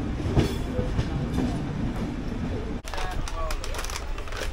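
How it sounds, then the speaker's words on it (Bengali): A passing Coromandel Express heard from aboard another moving express train in India, a steady broad rumble with rail clatter and a brief dip as it goes by, and voices murmuring underneath. "আর ওই যে ওইদিকে পার হচ্ছে করমণ্ডল এক্সপ্রেস, আমাদের সাথে দেখা হয়ে গেল।"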